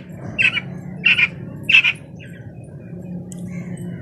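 A white quail kept as a pet calls three times in quick succession, short sharp squawking notes spaced about half a second apart, fairly close, over a steady low background hum with no talking.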